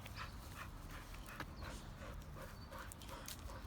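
A Dogo Argentino pants quickly and steadily close to the microphone outdoors on a warm evening, with a few soft scuffles and no talking.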